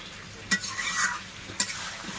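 Chutney with raisins and cashews being stirred as it cooks in a pan on a gas stove, a soft continuous sizzle broken by two sharp scrapes of the spoon against the pan, close and fairly quiet, no voices.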